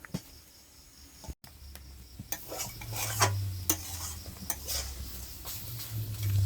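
Papad frying in hot oil in a home kitchen, a soft continuous sizzle with scattered light clinks and scrapes of utensils, fairly quiet and close with no talking.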